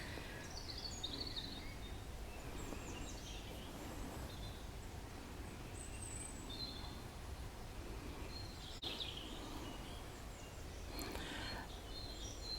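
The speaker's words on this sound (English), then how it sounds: "I just want you to hear the bird song." Birds sing in a Kent wood in May, scattered chirps and short phrases coming faint and distant over a soft, steady outdoor hush.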